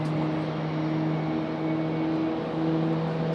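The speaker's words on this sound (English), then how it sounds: "we have Wiley the Coyote starting engines just below us in that A320" Airbus A320 jet engines spooling up at an airport apron, a steady low droning whine with sustained tonal hum, heard from nearby and constant throughout.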